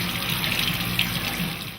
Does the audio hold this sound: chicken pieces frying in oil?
no